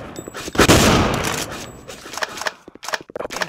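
Shooter video game gunfire: a loud, dense burst of shots that rises sharply, rings out and fades, followed by scattered sharp cracks and smaller pops.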